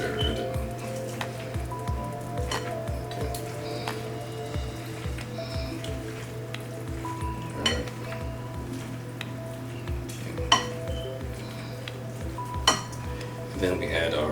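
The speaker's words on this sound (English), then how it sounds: "Alright, so we'll get nice and stirred." Vegan tuna salad mixed with vegan mayonnaise in a bowl, a steady series of utensil scrapes and clinks against the dish repeating roughly every half second, close, over a constant low hum.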